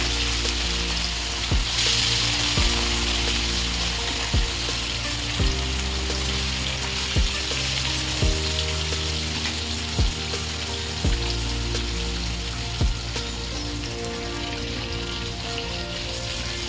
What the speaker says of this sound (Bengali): এবারে আমি মাছ ভেজে ফেলবো।